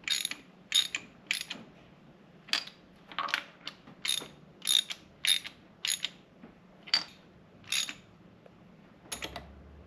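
Ratchet wrench tightening parts on the engine of a Mercedes SL Pagoda left sitting for 40 years, a series of quick close ratcheting clicks in short bursts separated by brief pauses.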